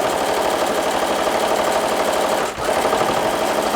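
Sewing machine stitching a scrap quilt seam, a fast steady mechanical whirring and clatter heard up close, with a brief dip midway before it runs on.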